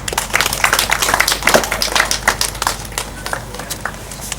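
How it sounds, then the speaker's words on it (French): An audience at a Mai-Mai Simba surrender ceremony in South Kivu claps in scattered, uneven bursts, loud and close at first and thinning out toward the end. "Vous applaudissez."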